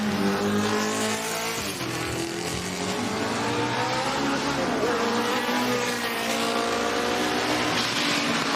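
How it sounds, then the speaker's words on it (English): A Jaguar E-Type races at the Goodwood Revival RAC TT in difficult conditions, its engine loud and close, revving and shifting through gears, with crowd and track noise around it. "Andy Prio takes victory in the RACTT in truly difficult conditions in the stunning Jaguar E-Type."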